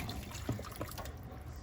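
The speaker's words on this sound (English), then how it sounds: "we're going to toss in this 2 cups of water that we put in our marinade here" Water poured from a marinade bowl into a pot of braised Caribbean oxtail, a faint soft trickling splash lasting a moment amid quiet kitchen background.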